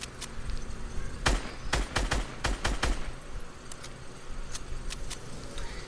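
A fast cluster of sharp gunshots fired in a shooter game, several cracks in quick succession at mid-distance, followed by a few scattered lighter shots over a faint background hum.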